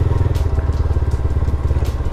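A motorcycle rides along a quiet village lane in Bangladesh, its engine close and loud with a steady, rapid thumping pulse throughout.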